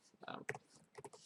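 Quick taps on a computer keyboard while entering Java code, a short cluster of close keystrokes, faint overall, with a few separate clicks at the end.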